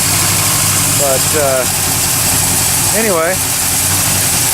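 A Chevy 350 V8 with a new single 2.5-inch exhaust idles steadily and close, a low rumble that stays loud throughout, while someone talks briefly over it.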